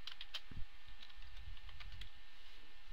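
Fingers type on a computer keyboard, giving faint, scattered keystroke clicks in a quiet room.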